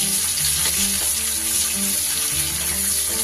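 Chopped large onion frying in oil in a pan, with steady broadband sizzling under low tonal hum and a few faint clinks, continuous and close.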